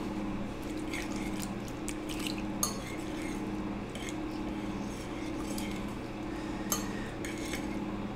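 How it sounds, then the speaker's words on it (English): Whisking the ingredients for potatoes au gratin in a bowl, with light steady scraping and faint clinks against a constant low kitchen hum and a few sharper taps. "So now what we're gonna do is we're gonna whisk it up."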